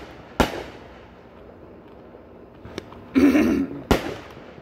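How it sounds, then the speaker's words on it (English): Fireworks bursting outdoors: three sharp loud bangs spaced over a few seconds, one followed by a brief crackling rush, over a low steady background. "look at those fireworks"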